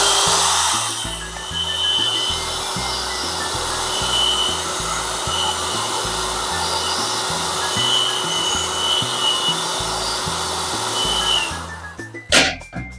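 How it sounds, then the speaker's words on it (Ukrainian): A steady, loud rushing blow of hot air from a heat gun heating the back of a metal surface under protective film runs almost continuously, then cuts off near the end with a few clunks and handling noises. "Це нагрівання звичайним будівельним феном, але не самої плівки, а задньої поверхні металу."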